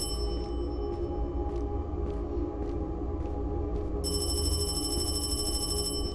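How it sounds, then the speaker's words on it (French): A telephone in a horror video game rings with a high electronic trill that starts partway through and repeats steadily over a low droning ambient background. "Oui, ce putain de téléphone."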